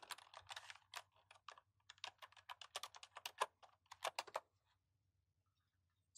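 Fast, light clicking keystrokes on a computer keyboard as a Wi-Fi password is entered, close and quiet, in irregular bursts for about four seconds before silence.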